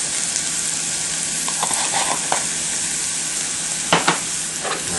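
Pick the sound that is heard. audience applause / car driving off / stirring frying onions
stirring frying onions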